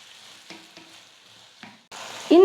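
Shallots, garlic and chopped tomatoes sauté in a pan for fish curry, with faint stirring taps at first, then a louder, close sizzle toward the end.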